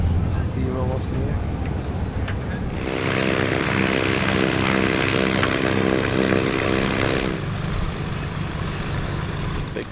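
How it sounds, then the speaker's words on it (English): A Piper Arrow light aircraft's lumpy piston engine runs nearby, a loud, steady, throbbing drone that swells in partway through and holds, with faint talk at the start. "Big Piper Arrow with that lumpy engine."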